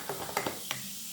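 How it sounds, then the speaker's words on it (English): A homemade baking-powder volcano mixture fizzing and sizzling as it is stirred in a cup, a few soft clicks of the spoon over a faint hiss, brief and close. "you can hear it sizzling"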